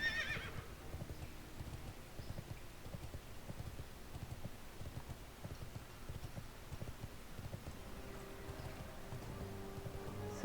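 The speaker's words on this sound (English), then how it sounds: "The horse." A horse in World of Warcraft: Cataclysm Classic whinnies near the start, then its hooves clip-clop steadily over a low ambient game background with no talk.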